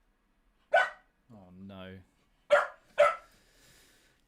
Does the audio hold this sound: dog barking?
yes